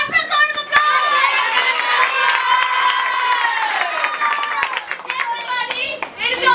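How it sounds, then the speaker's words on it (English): An audience at an English role-play event cheers a scene with loud sustained shouts and whoops from many voices, including children, over a bed of clapping, close and energetic throughout. "Maybe have a thunderous round of applause!"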